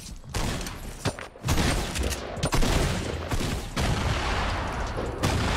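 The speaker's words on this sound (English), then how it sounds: "20 shots with this SMG" Rapid bursts of SMG fire from a Fortnite battle crackle loudly and densely almost without pause, broken by a few brief gaps and sharp louder cracks.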